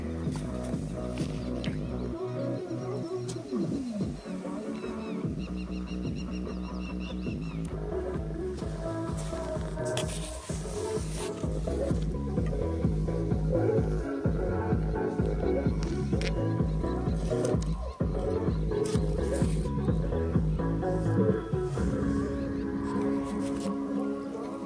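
A large DJ speaker buried underground in soil plays music continuously: a dense, muffled, pulsing bass-heavy beat with layered tones, steady and moderately loud throughout, with no talking.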